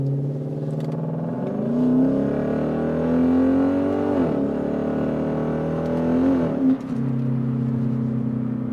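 A Lexus IS-F engine revs hard under acceleration, its pitch climbing through several gear pulls with brief dips at the shifts, loud and close throughout with no talking.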